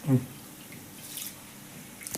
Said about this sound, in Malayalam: അരി എല്ലാം കഴുകിയാൽ വെള്ളത്തിലിടണേ